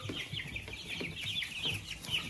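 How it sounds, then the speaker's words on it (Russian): Young grey-and-white Crested Dominant Czech cockerels peep and chirp in a close, continuous high chorus with a few low clucks underneath. "вот серые с белым, это петушки чубатого доминанта Чехия."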